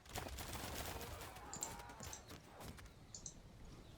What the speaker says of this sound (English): close range crossbow fire